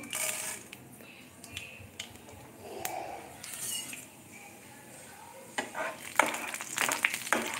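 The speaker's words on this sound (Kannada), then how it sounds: "ಇವಾಗ ಸಾಸಿವೆ ಚಟ್ಪಟ ಅಂತು ನೆಕ್ಸ್ಟ್ ಕಡಲೆಬೇಳೆ ಬೇಳೆ ಹಾಕೋತಾ ಇದ್ದೀನಿ" Mustard seeds spluttering in hot oil, with chana dal added, while mango chitranna is prepared. A soft background sizzle runs beneath scattered crackles and utensil clinks, and busier clattering builds toward the end.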